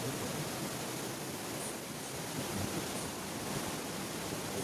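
The Yamuna river rushes beneath the bridge on the Yamunotri trek, a loud, continuous roar of churning water with a touch of wind, unchanging from start to finish.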